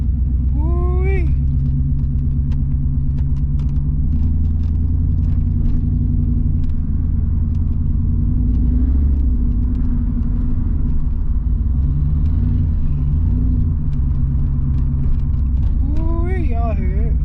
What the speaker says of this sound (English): I love this big V8 sound, man.